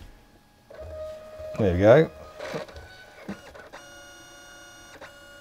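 Canon Selphy 760 compact photo printer starting up, with a brief mechanical whir and clicks, then a steady high whine of feeding; someone speaks briefly near the start.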